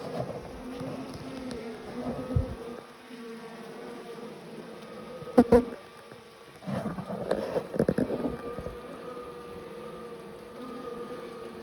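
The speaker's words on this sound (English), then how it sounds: "there's a bee right there with pollen on its back legs" Honey bees buzzing around an open hive with a frame pulled out, a continuous close, wavering hum with scattered louder passes of individual bees and occasional handling noise.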